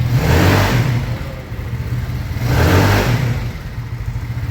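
Yamaha Mio scooter engine bored up to 132cc with an RVN camshaft, running close by and revving twice in smooth surges that rise and fall over a steady mid-pitched engine drone.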